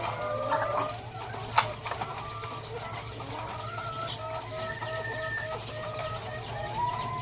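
Laying hens in a layer flock cluck and squawk close by in short, repeated calls over a steady low hum, with one sharp louder cluck partway through.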